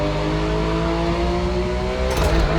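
A hypercar engine accelerates in a racing video game with a pro racing mod, a loud, steady whine that climbs in pitch, then briefly shifts with a rougher burst near the end.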